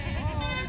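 A goat bleats at the Vasmat goat market in Hingoli, Maharashtra, where Osmanabadi goats are traded. It is a single short, wavering bleat heard close and fairly loud over a busy background of market chatter.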